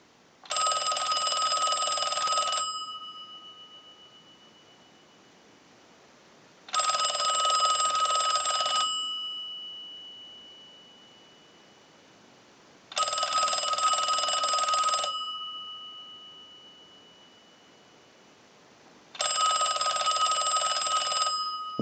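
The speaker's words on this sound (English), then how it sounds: "use the analyzer and send a ring cycle like you were getting a call" A Deco Tel candlestick telephone's mechanical bell rings in four evenly spaced bursts of about two seconds each, driven by a ring cycle from a telephone analyzer, with quiet gaps between and no talk.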